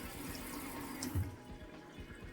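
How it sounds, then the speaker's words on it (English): Running tap water splashes into a sink while a makeup spoolie is scrubbed with dish soap, a steady wash of water noise with a brief louder splash midway. "Dish soap, and I'm going to scrub the spoolie"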